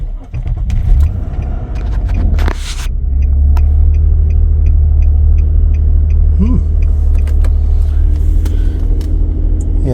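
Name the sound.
2009 Nissan Maxima engine starting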